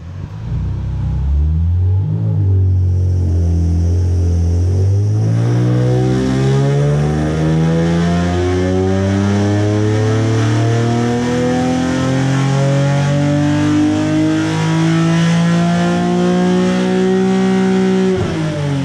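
A Nissan 370Z Nismo with Z1 headers, tuned with UpRev, revs hard on a dyno in one long pull, the engine note climbing steadily and loudly from low idle to high rpm for nearly twenty seconds, with no talk.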